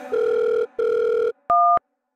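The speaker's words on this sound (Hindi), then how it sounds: "फोन लगाओ। लगाओ स्पीकर ऑन कर।" Two long dial tone beeps on a phone set to speakerphone, followed by a shorter higher tone, clear and close with silence after.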